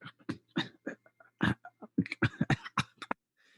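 A voice imitates a crackling, coughing cackle, a string of short, choppy chuckle-like bursts with a fading rasp at the end, close and fairly quiet.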